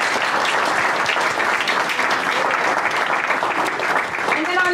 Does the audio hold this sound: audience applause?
yes